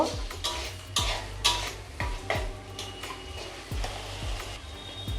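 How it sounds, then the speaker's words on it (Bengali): Spice paste for a Bengali katla fish kalia is stir-fried in a pan, with a soft sizzle under a steady run of spatula scrapes and clinks against the metal. "মশলাটা একটু কষিয়ে নিতে হবে।"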